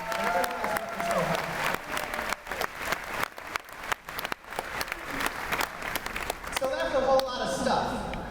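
Audience applause for performers at a Busch Gardens Williamsburg Howl-O-Scream event, a sustained wash of clapping across the whole stretch with crowd noise and some talk mixed in toward the end.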